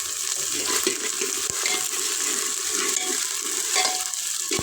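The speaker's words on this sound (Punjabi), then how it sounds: "ਅਦਰਕ ਮਿਰਚਾਂ ਸਾਰਾ ਕੁਝ ਤੇ ਉਹਨਾਂ ਆਪਾਂ ਭੁੰਨਦੇ ਹਾਂ ਤੜਕਾ" Ginger, green chillies and cumin sizzle steadily in hot oil for a tadka over a stove, a loud continuous frying hiss with scattered pops and stirring scrapes, no voices.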